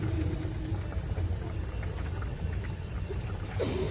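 Cumin seeds sizzling in hot oil in a kadai give a continuous, moderately loud crackling hiss with low rumbling underneath, steady from start to finish.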